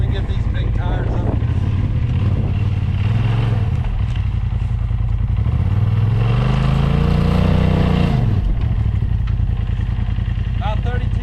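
A Polaris RZR with big, roughly six-foot tires revs hard, its engine climbing in a long, loud pitch sweep and then dropping back, with mechanical clatter and voices in the background.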